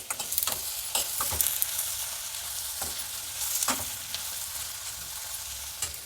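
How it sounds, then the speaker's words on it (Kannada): Onions frying in oil in a home kitchen, a steady close sizzle broken by sharp scraping stirs of the spatula, no voices. "ಹುರಿಬೇಕು ಈರುಳ್ಳಿ ಟ್ರಾನ್ಸ್ಪರೆಂಟ್ ಆಗೋ ತನಕ ಇದೇ ಥರ ಎಣ್ಣೆಯಲ್ಲಿ ಬಾಡಿಸಬೇಕು"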